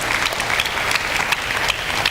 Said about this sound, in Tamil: கைத்தட்டி ஆண்டவருக்கு நன்றி சொல்லுவோமா?